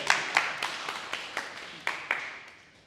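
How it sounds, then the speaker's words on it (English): Scattered applause from a small audience at a decentralised-finance meetup, a thin patter of claps that rises in a few quick bursts and then tapers away. No one speaks over it. "Now that deserves a round of applause."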